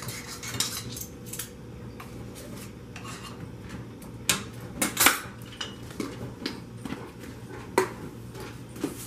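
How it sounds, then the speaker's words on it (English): Flour and baking powder being mixed in a bowl for a fish and chips batter, with a utensil scraping and clinking against the bowl in irregular bursts, close and moderately quiet, with no voices. "We're just going to mix it all in together."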